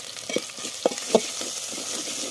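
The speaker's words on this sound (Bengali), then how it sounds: "এটাকে দিয়ে আবার ভাজবো আমি।" Spices sizzling in a hot pan for a soybean kofta curry, a steady fry hiss punctuated by a few sharp clinks and scrapes of stirring.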